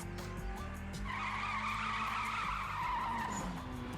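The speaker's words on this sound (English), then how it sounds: "Well, at least he didn't wreck it. He just spun out." Tires screech and skid loudly as a car spins out in a TV drama scene, a sustained squeal over engine rumble lasting several seconds.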